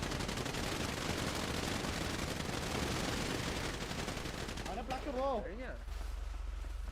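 Rapid automatic gunfire crackles through a video game team fight, dense and continuous bursts filling the scene before thinning out, with a brief voice rising near the end.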